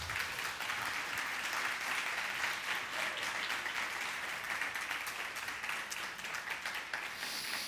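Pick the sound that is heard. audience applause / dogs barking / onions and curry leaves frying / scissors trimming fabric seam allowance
audience applause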